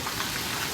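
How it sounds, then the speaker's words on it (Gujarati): Heavy rain pouring down in Mehsana, a steady broadband hiss that fills the short moment without a break. "आज जोर जोर से बारिश आ रही है हमारे महसाणा में"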